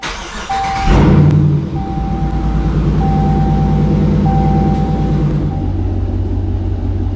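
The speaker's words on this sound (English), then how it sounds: "first step is going to be to turn the car on" A car engine is started inside the vehicle: a short burst of cranking catches at about one second and settles into a steady, close idle rumble, with thin electronic chime tones sounding on and off above it.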